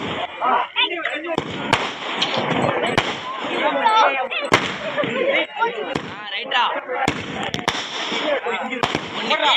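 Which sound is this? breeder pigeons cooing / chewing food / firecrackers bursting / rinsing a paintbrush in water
firecrackers bursting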